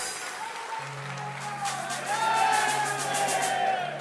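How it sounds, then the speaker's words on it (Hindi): Applause from a religious discourse audience in India, a broad clapping wash with crowd noise and a steady low tone beneath, swelling slightly midway and continuing throughout. "तालियां जोर से बजाएं।"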